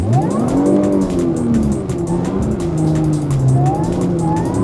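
A car spins donuts in snow during the 2021 Texas blizzard, its engine revving loudly and steadily with rising and falling pitch as tires whine and slip, close and continuous throughout.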